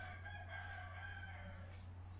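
A rooster crows faintly in the distance over a steady low electrical hum, a drawn-out call with wavering pitch.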